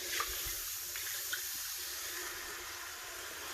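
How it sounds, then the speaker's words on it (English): Cold milk poured all at once into a pan for gravy: a steady, close liquid rush and hiss with a few faint splashes, continuous and unbroken, without voices. "As soon as you pour that cold milk in there, it's going to come right up"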